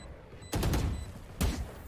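Rifle fire in a Valorant match at a professional tournament: two short loud bursts of rapid shots, separated by under a second of quiet.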